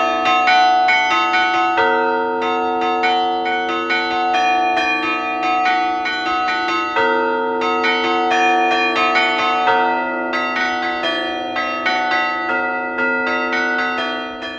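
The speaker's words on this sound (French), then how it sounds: "C'est un carillon spécial parce qu'il n'existe pas beaucoup de cloches encore en Suisse en acier." Steel carillon bells in a Swiss campanile ringing a steady melody, many bright overlapping strikes with long sustained hum, loud and continuous.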